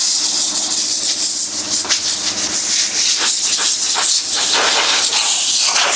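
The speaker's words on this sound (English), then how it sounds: "There goes the noisy compressor." A loud, steady hiss of a running air compressor fills the space, with a few soft knocks and clatters underneath, during fuel pump cleaning.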